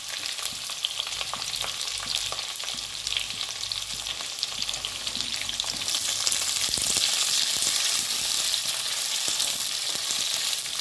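Onion softening in a pan for coriander and green pea rice crackles with a constant close sizzle, growing slightly louder partway through, with occasional stirring scrapes.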